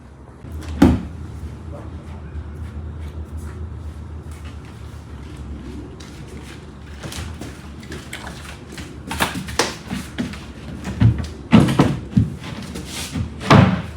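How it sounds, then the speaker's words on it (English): Installing a door on a cargo trailer's under-storage compartment: scattered knocks, bumps and clunks of handling the panel, sparse at first then a denser burst of sharp taps and thuds near the end, with faint low background. "So next, we put the door on."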